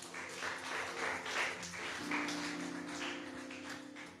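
A church congregation clapping hands together in praise, a steady dense patter of applause sustained throughout, with a faint tone sounding underneath.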